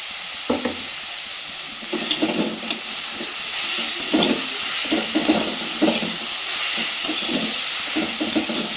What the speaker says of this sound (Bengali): মিডিয়াম টু লোতে রেখে সুন্দর করে ভাজতে থাকবো